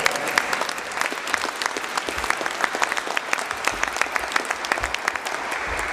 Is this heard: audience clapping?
yes